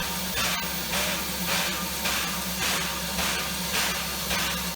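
Steam locomotive hissing loudly and continuously, with broad rushing steam noise pulsing in steady regular surges about once a second, close and without talk.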